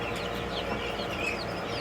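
Small chicks and larger chickens cluck and peep steadily in a close, busy mix of overlapping calls, with no talking.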